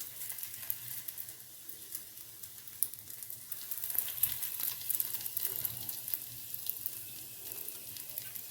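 Coconut poli frying in oil on a pan, a soft continuous sizzle with faint crackle, fairly quiet and steady.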